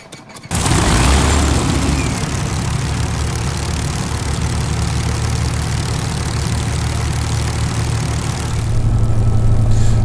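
A Spitfire's engine running on the ground in Microsoft Flight Simulator, a loud steady low rumble that kicks in after a short quiet start and holds evenly throughout, swelling slightly at the end.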